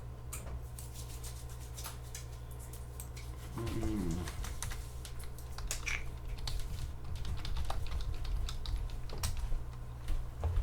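Fingers tap on a computer keyboard in a run of quick, uneven clicks and clacks over a low steady hum, with a brief tonal squeak partway through and the typing growing busier toward the end.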